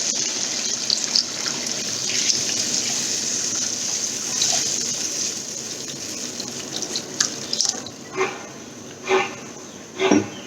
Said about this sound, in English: Now I'll add some water.